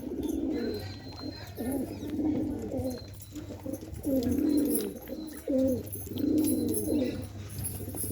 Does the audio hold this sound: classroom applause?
no